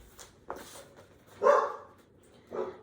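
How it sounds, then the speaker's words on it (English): Several dogs bark in short separate bursts, a couple of close yips followed by louder barks, in a quiet indoor room. "And so there are my dogs."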